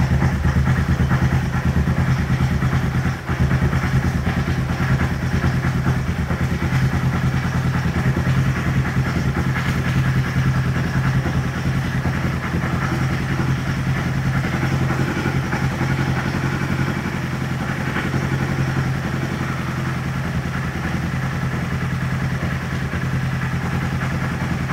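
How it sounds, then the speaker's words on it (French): An Aprilia Tuono motorcycle engine idles close by, a steady, loud, even rumble with a single thump early on and no obvious jump in revs. "Et vous avez entendu là comment le ralenti il est remonté d'un coup?"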